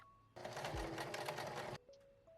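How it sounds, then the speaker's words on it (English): Sewing machine stitching belt loops down onto a gingham pants waistband, a fast steady mechanical whir in one burst of about a second and a half, then a faint clunk as it stops. "I start by sewing down the belt loops 1/4 inch from the waistband."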